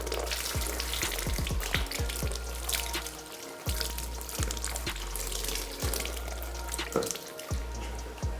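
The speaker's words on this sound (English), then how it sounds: "Rinse this under running water" Tap water runs steadily as leaves for wrapping banku are rinsed under it, with a continuous close splashing and occasional soft knocks and clicks of handling in the sink.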